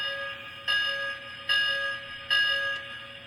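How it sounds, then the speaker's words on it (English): A Lionel LionChief Hogwarts Express O-scale model train bell rings three times at an even pace, each clear ring fading before the next strikes. "Here's the bell."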